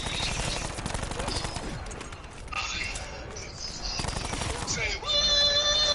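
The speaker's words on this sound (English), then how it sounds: "Just gotta shoot him the old-fashioned way." Rapid bursts of automatic gunfire from the video game Black Ops 4 run almost without a break, loud and dense, layered with other game effects and a few tonal beeps near the end.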